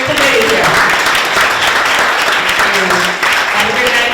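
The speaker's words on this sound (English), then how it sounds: "how about another round of applause for your committee here?" A crowd at an evening community event gives a round of applause for an organizing committee, loud, close and continuous, with voices mixed into the clapping.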